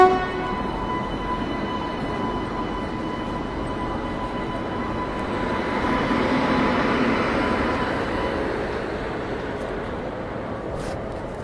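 A WAP-7 electric locomotive passes near Nagpur station, a steady loud rolling rumble with long sustained horn tones that swell in the middle and ease off, no talking.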